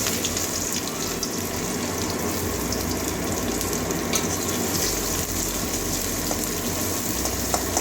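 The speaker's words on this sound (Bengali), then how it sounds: "পাঁচ ফোড়ন দিয়ে দিচ্ছি ফোড়নে সাত চামচ দুটো শুকনো লঙ্কা একটা মিডিয়াম সাইজের পেঁয়াজ কুচি করে নিয়েছি" Chopped medium onion with panch phoron and two dried red chillies frying in hot oil, a steady dense sizzle running evenly throughout with no talking.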